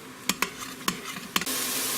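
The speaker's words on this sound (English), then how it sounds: "Now let's give that just a quick little stir as well." Several light scraping strokes from a spoon stirring ground cumin into chili inside an Instant Pot, irregular taps and scrapes over a soft steady background hiss.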